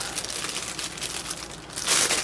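A plastic bag crinkles and rustles close up as a Klein Tools compact impact driver is unpacked, ending in a louder crackle.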